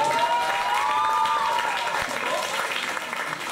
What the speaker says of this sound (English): Please, a round of applause for you guys.